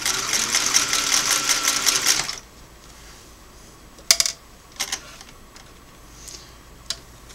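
Singer 503A twin-needle sewing machine running a straight stitch in one steady burst lasting about two seconds, then stopping, followed by a few sharp clicks and knocks as the fabric is handled.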